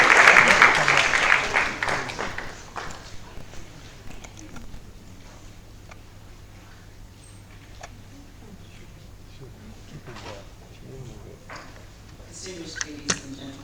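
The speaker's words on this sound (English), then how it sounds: "another round of applause." Conference audience applause bursts loudly at the start and fades within a few seconds, leaving a quiet hall with scattered faint clapping and small noises; a speaker talks afterward.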